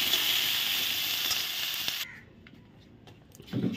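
Potatoes seasoned with turmeric and salt fry in a little oil, giving a loud, steady sizzle for about two seconds that then cuts off abruptly, leaving near quiet with faint clinks and a brief rustle at the end.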